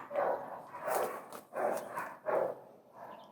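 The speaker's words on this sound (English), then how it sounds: "Who the hell set off the neighborhood dogs?" Neighborhood dogs bark in the distance, four faint evenly spaced barks with a softer fifth trailing off.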